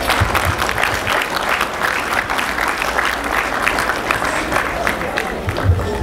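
Convention audience at an Efik National Association gathering in Houston applauds for a professor, steady dense clapping with some cheering that stays loud and even for the whole stretch.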